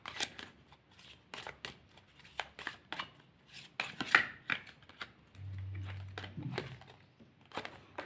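Tarot cards are shuffled and drawn from a deck in a series of soft, crisp flicks and slaps of card stock, some clustered and some spaced apart, with a low hum partway through.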